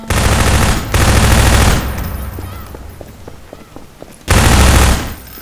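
SMG fire in the video game Garry's Mod comes in loud, sustained automatic bursts, two long ones early and another near the end, with quieter echoing single clicks between them.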